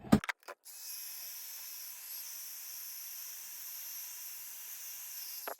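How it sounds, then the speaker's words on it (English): A heat gun melting embossing powder on a card, starting after a couple of brief clicks as a steady, fairly faint airy hiss that holds evenly and then cuts off. "Now I'll just use my heat gun on that just to melt the powder."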